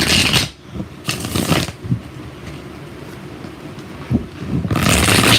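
Tarot cards being shuffled by hand in a few quick riffling bursts, close and fairly loud, separated by quieter pauses.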